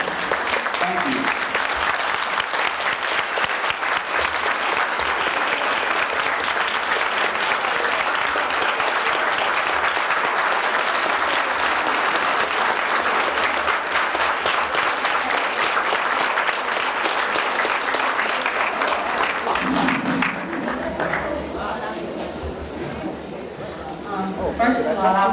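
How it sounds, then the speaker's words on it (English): Applause from a foster parent conference audience for a guest speaker fills the hall with dense, sustained clapping that fades slightly near the end, then swells back up. "I would like to say we give Mr. Hobson another round of applause"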